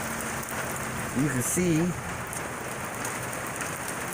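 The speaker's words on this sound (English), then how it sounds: "rain coming in, and I do have to put the door up" Steady rain patters on a sailboat, a constant close hiss of drops filling the whole clip while someone speaks briefly in the middle.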